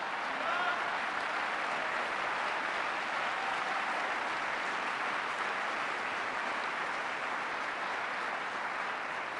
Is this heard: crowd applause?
yes